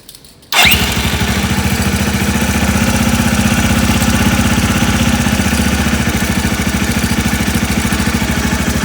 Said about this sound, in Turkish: biraz çalıştır rolantini